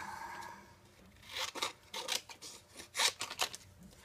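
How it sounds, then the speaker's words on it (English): Scissors snip paper eyes out for a Halloween treat box craft, a close series of crisp cutting strokes and rustles that grow busier after a quiet start. "cut the eyeballs out"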